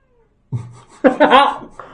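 A cat meows close by in a short, strained, wavering call, preceded by a low grunt-like sound, all within under two seconds.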